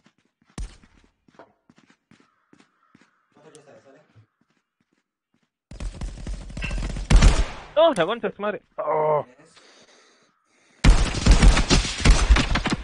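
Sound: gunfire in a video game (Contractors VR)

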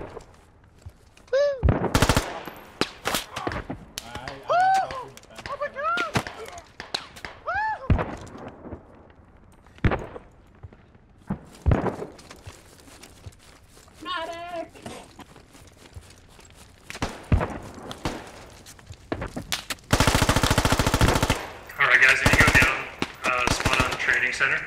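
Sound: gunfire from a video game (The Western PMC Squad)

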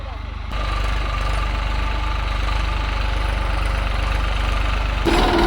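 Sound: tractor engine running

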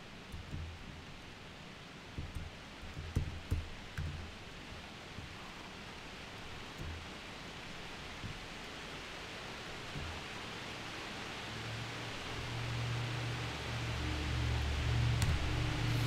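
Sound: rain falling

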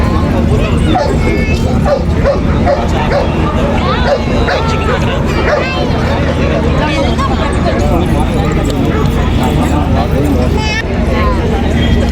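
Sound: dogs barking at a dog show

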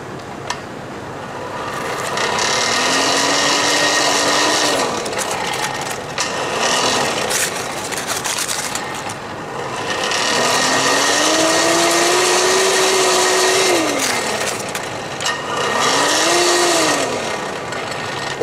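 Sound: improvised forge blower blowing air into fire pot

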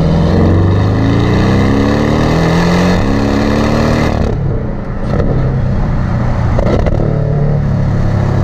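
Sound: sports car engine revving

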